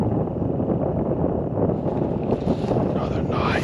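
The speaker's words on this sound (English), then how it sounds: "Another day of wind." Strong wind buffets the microphone outdoors in Kansas, a loud, continuous low roar with gusty rumbling and no break across the whole stretch.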